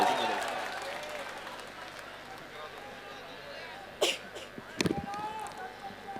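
An audience at a political party convention clapping to welcome a speaker, a broad wash of applause that fades over the first couple of seconds, followed by a quieter hall with scattered coughs and bumps.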